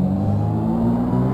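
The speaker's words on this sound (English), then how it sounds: "The car seems to be very noisy, but that's okay." Steady, droning car engine in a Unity game scene, a continuous low hum that runs loud and unbroken with no talk over it.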